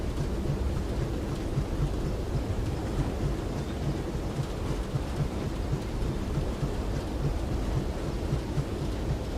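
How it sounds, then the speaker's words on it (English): A simulated thunderstorm in a Disneyland Railroad simulator game gives steady heavy rain and a low, continuous rumble of thunder, dense and unbroken throughout, with no voices. "We'll do a thunderstorm"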